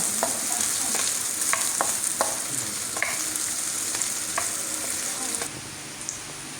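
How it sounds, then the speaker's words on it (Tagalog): Pancit noodles frying in a pan while being stirred, a steady bright sizzle with scattered scraping clicks from the utensil, close up, the sizzle dropping off near the end. "Halu-haluin lang po."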